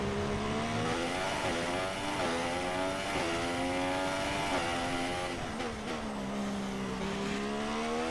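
A Formula 1 car engine in an F1 2017 video game time trial lap screams at high revs, rising through gears with brief dips at shifts, loud and steady throughout.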